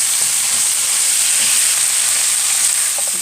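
Onions sizzle steadily in a hot pan for Syrian chicken shawarma, a loud, continuous frying hiss with faint stirring scrapes and no talk.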